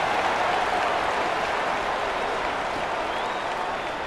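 A packed stadium crowd roars steadily at kickoff of a Florida State versus Boston College football game, a dense, continuous wash of cheering with no pauses.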